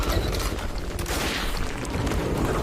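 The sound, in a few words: gunfire in the video game Metro Last Light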